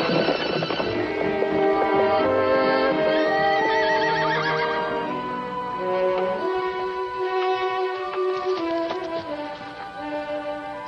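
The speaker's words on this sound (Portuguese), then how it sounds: "Você disse que Tornado era um cavalo selvagem." A horse whinnies loudly over steady clip-clopping hooves, with a long neigh up close, then another call as the hoofbeats continue.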